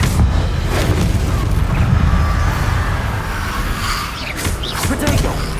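Blast spell explosion in the Hogwarts Legacy video game: a loud, sustained booming rumble with crackling debris, filling the whole span among other spell effects.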